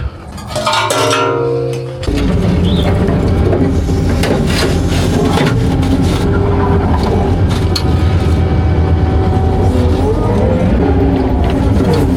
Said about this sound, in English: Would you fire up the Kubota